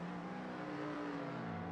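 A race car in Assetto Corsa during a tyre burnout, a steady droning engine whine and tyre noise that holds throughout with a slowly dropping pitch, continuous and fairly distant.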